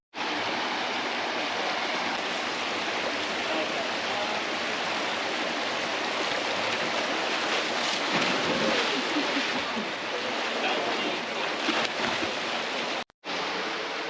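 Rushing water roars loudly and continuously at close range while someone slides down a waterfall near Deadwood, South Dakota, a dense steady wash of spray that cuts off abruptly near the end.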